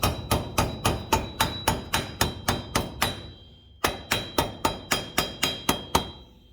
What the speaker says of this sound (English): Do that all the way around and then hammer it nice and flat.